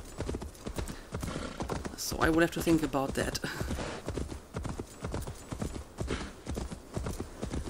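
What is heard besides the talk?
horse hooves clip-clopping, from the video game Assassin's Creed Valhalla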